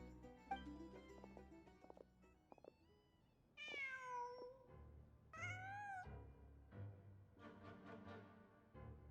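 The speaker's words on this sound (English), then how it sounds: "Just a cat." A cat in the Genshin Impact video game gives two or three drawn-out meows, close and clear, over soft in-game background music and ambience.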